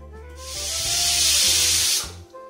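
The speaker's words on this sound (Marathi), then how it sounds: "आणि आता मी 3 शिट्ट्याच्या करून घेणार आहे." A pressure cooker on a gas stove whistles as it releases steam, a loud sustained hiss that swells and holds for about a second and a half before cutting off, over a low rumbling background.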